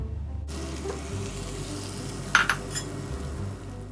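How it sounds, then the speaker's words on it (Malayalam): Ginger, garlic and chillies fry in a pan for white lime pickle with a steady close sizzle and a few quick metallic clinks partway through. "ഇഞ്ചിയും വെളുത്തുള്ളിയും കാന്താരിയും ഇതുപോലെ ബ്രൗൺ ആകുന്നത് വരെ നമുക്ക് ഫ്രൈ ചെയ്തെടുക്കണം."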